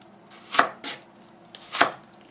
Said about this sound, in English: First I'm gonna chop it and then wash.